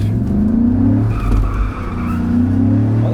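Tires of a Chevrolet SSR pickup squeal and skid through a 360-degree spin, a loud close screech riding over the engine's drone, rising and falling as the truck turns.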